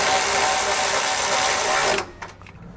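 A socket and wrench tighten the bolts on a SumoSprings Rebel Custom helper spring bracket, a steady close mechanical whir for about two seconds that stops abruptly, followed by a few faint clicks.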